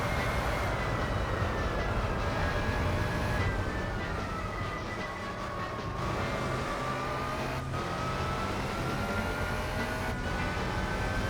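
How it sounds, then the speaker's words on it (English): Loud race car engine in Gran Turismo 4 holds a high, droning whine with gradually shifting pitch and occasional brief dips as it shifts gears, continuous and close with no talk. "this is a race car, so it's much more noisy."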